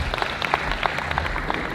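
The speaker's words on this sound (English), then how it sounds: "And can we please give a round of applause to Betty?" A crowd at a South Sudanese Independence Day gathering in Perth, Australia applauds for Betty, brief close-up clapping with distinct individual claps over a general patter.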